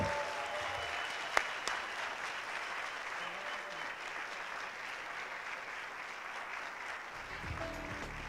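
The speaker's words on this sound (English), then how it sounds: "You will not have dinner if I don't hear a loud clap." An audience at a UCF/HCA Healthcare graduate medical education event in Greater Orlando gives program coordinators sustained, fairly faint applause that runs steadily for several seconds before thinning out near the end.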